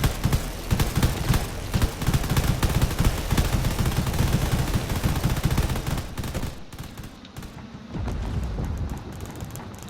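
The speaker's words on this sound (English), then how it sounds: "That Corvette's burst fire cannons can do a lot of damage." Burst-fire cannons on a Corvette warship in the space strategy game Drone Wars, rapid crackling volleys of gunfire layered over rumbling battle noise, loud and continuous before thinning out toward the end.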